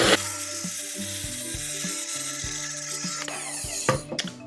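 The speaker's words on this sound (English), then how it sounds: "we're just gonna throw the top on, and we're gonna blend" A countertop blender whirs through a healthy protein smoothie with oats, the motor pitch stepping and shifting in a sped-up, choppy run before cutting off near the end.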